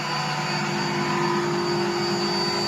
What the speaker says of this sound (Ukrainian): До вашої уваги компресор, гвинтовий Рокі